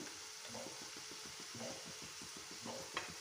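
A prawn roast with green chillies stirred in a pan, heard as quiet, rhythmic spatula scrapes over a low, steady sizzle with no voices.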